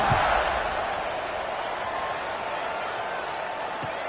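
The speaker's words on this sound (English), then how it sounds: "this crowd now ready to get behind them" Continuous stadium crowd noise at a football game as the teams line up for a kickoff, a broad steady roar with a slightly louder swell at the start.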